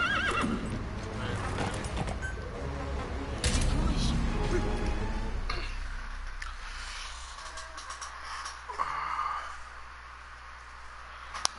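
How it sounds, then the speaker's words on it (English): A horse neighs and whinnies in Metal Gear Solid V: The Phantom Pain, with clip-clopping hooves and game sound effects, loud at first and then quieter, with occasional voice-like game audio. "Or just one D-horse."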